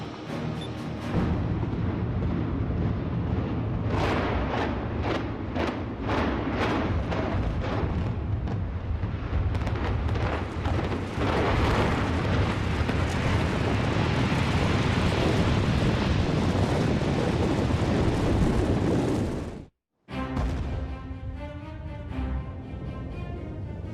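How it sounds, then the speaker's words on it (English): Reinforced concrete tower block imploding in a world-record demolition, a quick volley of sharp blasts followed by a long, loud roaring collapse and rumble that fills the air, then a sudden cutoff and a lower lingering rumble. "This could be the highest reinforced concrete structure ever imploded."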